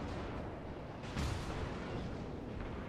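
In World of Warships, the battleship Missouri fires her main guns: one deep booming salvo rises out of steady, dense game rumble and noise.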